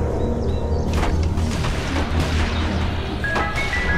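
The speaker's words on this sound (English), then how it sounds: "It's gunshots." Gunshots ring out in The Walking Dead video game, a few sharp cracks spread across the clip over a low, steady background rumble, with no talking.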